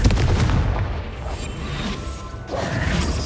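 Confringo blasting spell detonating in a Wizarding World video game, a loud booming explosion with crashing, rumbling debris that lingers, followed by a second heavy impact burst near the end.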